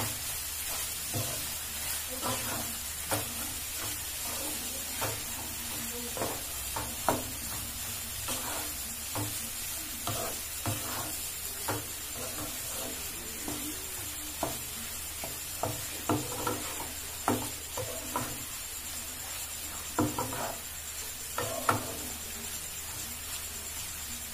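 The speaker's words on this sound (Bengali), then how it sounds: "তো আমি এবার ভালো করে এটা নেড়ে নেব" Soya egg roll filling is stirred in a sizzling frying pan, with a soft continuous fry under repeated scraping knocks of the spatula against the pan, irregular and close.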